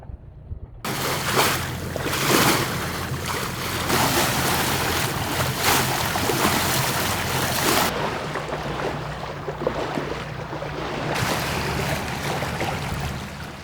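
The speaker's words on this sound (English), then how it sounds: "we turned on the motor as we approached our anchorage for the night." Sailboat's motor running as the boat nears an anchorage for the night, a steady low engine hum beneath wind rush and water washing along the hull, continuous throughout with no talk.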